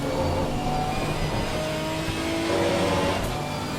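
A Ginetta GT4 race car engine drones steadily at high revs, heard from inside the car at Laguna Seca in the Assetto Corsa Competizione racing game, with a constant buzzing tone that rises and falls slightly.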